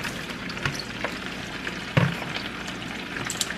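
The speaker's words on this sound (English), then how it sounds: "Into our hot pan, just throw your pre-washed spinach right in there." Pre-washed baby spinach sautés in a hot pan of olive oil with a continuous close crackling sizzle, punctuated by a few sharper spatters and stirring knocks, with no talking.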